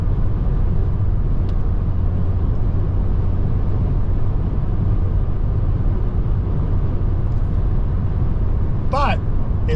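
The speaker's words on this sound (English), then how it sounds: "now we're up to speed, but now you can really hear the wind" Wind noise inside a 2023 Kia Rio S sedan cruising at highway speed, a constant low rumbling roar with road hum beneath; someone talks over it throughout.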